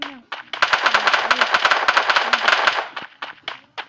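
Rapid automatic gunfire in a shooting video game, loud close bursts of sharp cracks in a fast steady rhythm for a few seconds, then a few scattered single shots.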